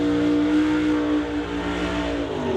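A 1967 Camaro drag car engine revs loudly at a drag strip, holding a steady high drone before the pitch sweeps upward near the end.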